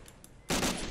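Gunfire in Soldiers: Heroes of World War II bursts out suddenly after a quiet moment, a loud rapid volley of shots.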